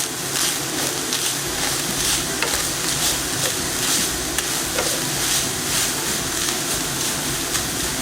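Seasoned ground beef frying in a skillet for nachos, a dense, loud, continuous sizzle heard up close with occasional faint stirring taps and no voices.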